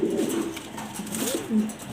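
A male Giribaz racer pigeon coos close by in a steady, rolling series of low throaty calls that carries through the two seconds with no other voices.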